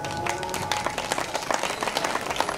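An audience breaks into scattered, uneven clapping with individual hand claps popping out at irregular moments, moderately loud and close, with no talk over it.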